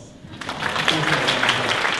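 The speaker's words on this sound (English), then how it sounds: "Give yourself a round of applause." A standing crowd at a service awards celebration claps for itself, applause building from quiet to a full, steady roar of many hands with some voices mixed in.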